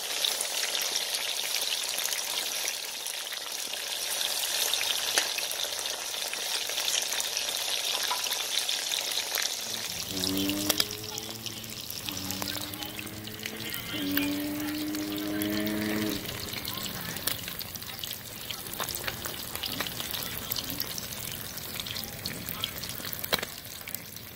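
Fish for Jamaican escovitch fries in a pan, a steady crackling sizzle throughout, while a voice talks briefly partway through.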